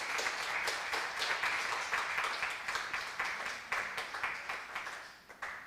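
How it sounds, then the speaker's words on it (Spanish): Applause at a university talk on communication theory as four presenters step forward; steady, moderately quiet crowd clapping continues throughout with evenly spaced pulses, no voices over it. "Démosles un fuerte aplauso."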